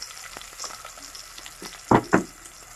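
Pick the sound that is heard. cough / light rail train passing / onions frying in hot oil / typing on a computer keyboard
onions frying in hot oil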